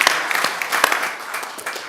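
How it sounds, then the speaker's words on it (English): Applause at a city Board of Aldermen meeting: scattered clapping from a modest group in a meeting room that starts with a few sharp claps and then thins out gradually. "We can clap for Cindy again."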